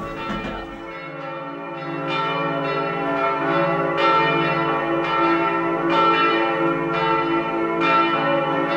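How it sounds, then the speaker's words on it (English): Large church bells ring in a bell tower at noon, each strike blooming into a long, resonant hum that overlaps the next, struck steadily about once a second and sounding close and loud throughout. "the bells will soon chime at noon"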